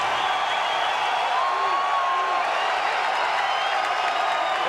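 A large arena crowd at an old-school UFC title fight roars and applauds steadily after a strong first-round finish by Tito Ortiz, a continuous wash of cheering and clapping at moderate level with no distinct voices.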